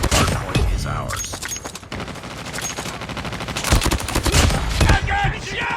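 Rapid gunfire bursts and automatic weapon fire from the Call of Duty Mobile video game fill the mix with dense, loud shots, with game voice lines and other sound effects underneath.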